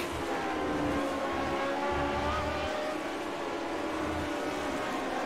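Race car engines drone steadily in the iRacing video game during a World Cup of iRacing road race, Canada vs Northwest, with several cars running close together. The sound is a dense, continuous, fairly loud roar.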